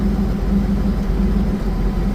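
Cadillac STS-V engine idling steadily at close range, a continuous low rumble with no talk over it.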